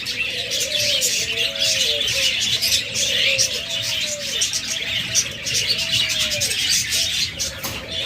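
Budgerigars, cockatiels and lovebirds chatter in cages at a bird seller's, a dense, constant flock of high chirps and tweets with lower cooing calls mixed in, close and busy throughout.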